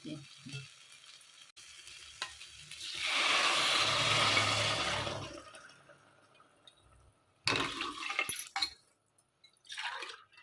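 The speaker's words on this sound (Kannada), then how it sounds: "ಈಗ ನಾನು ನೀರು ಹಾಕ್ಕೊಂಡು" Water is poured into a pressure cooker holding rice for vangi bath, a loud, steady hissing rush lasting a couple of seconds midway, with quieter kitchen clatter before and a few sharp knocks afterward.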